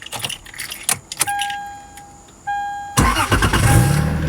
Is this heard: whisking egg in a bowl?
no